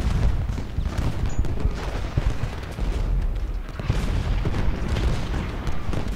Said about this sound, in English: We've got some sharpshooters just firing off at us.